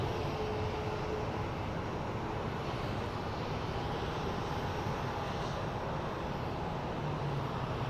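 Steady broadband roar of an airliner at Phoenix Sky Harbor airport, a continuous engine rumble and rush holding level throughout, fairly distant with no voices over it.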